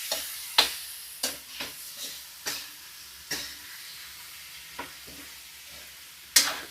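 Shrimp sizzle in butter in a pan under a steady soft frying hiss. Sharp scrapes and clinks come at irregular intervals as the shrimp are stirred. No one speaks.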